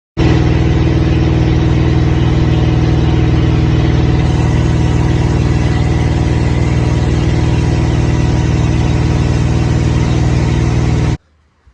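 A 1966 Chevrolet C30 truck drives down the road, its engine a loud, steady, close drone with a rumbling low end and a slight lift midway, running continuously until it cuts off abruptly near the end.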